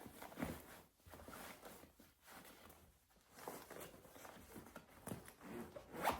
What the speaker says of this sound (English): Okay, so I zip that part up